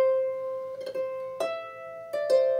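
Harp phrase from the Scottish march "Drummond Castle" played near and alone: a sustained bright note with ringing overtones, then several plucked notes and a trill, each attack clear against the lingering resonance.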